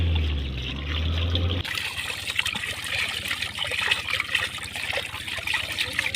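Cold tap water runs steadily while about a kilo of raw chicken is washed for tikka, a continuous close trickle and splash with the water's pitch shifting as it strikes the meat.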